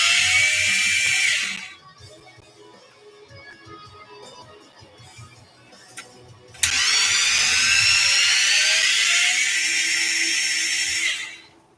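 A power drill backs out two screws on a HoBao VT RC car in two loud whining bursts, one short and one longer, separated by a few quiet seconds.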